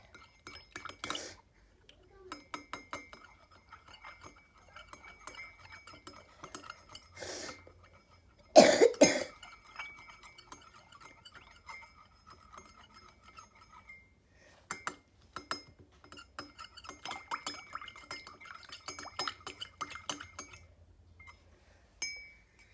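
Stirring and mixing a mixture for a toy volcano, with scattered clinks and scrapes of a utensil against a container coming in short irregular bursts, a cough, and a louder clatter midway, in an otherwise quiet room.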